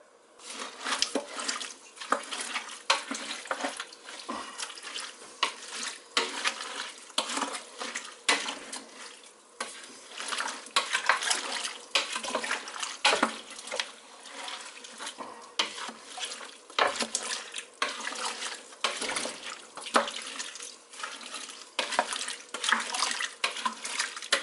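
Water from cans splashes and pours into a pot of vegetable bean soup in uneven bursts, close and clattery, with occasional metal knocks and no talking.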